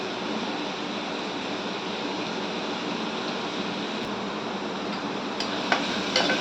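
Vegetables sauté in hot oil in a pan for vegetable rice, giving a steady, dense sizzle with soft stirring scrapes throughout and a few brighter clinks near the end.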